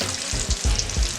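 Popcorn chicken frying in a home deep fryer, a steady close crackling sizzle of bubbling oil with soft stirring thumps, heard alone without talk.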